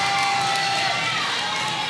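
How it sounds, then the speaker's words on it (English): Home crowd at a roller derby bout cheering and shouting in a steady, dense roar that fills the arena, with announcer-like voices faintly mixed in. "Hometown crowd getting into it here"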